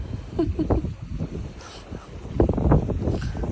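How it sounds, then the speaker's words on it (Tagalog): Gusty wind on a fishing trip buffets the microphone in a low, rumbling roar that swells louder toward the end, with faint voices underneath. "Palakas ng hangin dyan guys, palakas na."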